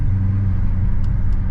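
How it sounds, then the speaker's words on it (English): A Chrysler 300 with a mid muffler delete rumbles with a deep, loud exhaust drone, steady and close, with a faint click or two late on. "this has got the mid muffler delete that I want to do to the Magnum"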